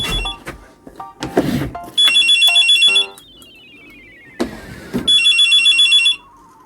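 A telephone bell rings in two loud, trilling bursts, separated by clatter and a falling whistle-like tone.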